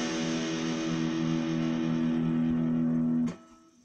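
A distorted electric guitar sustains a single heavy chord from the Tales from the Crypt riff, loud and steady for about three seconds before being cut off abruptly.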